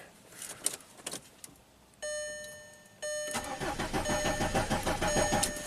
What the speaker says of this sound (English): let me crank it and squeeze the button at the same time.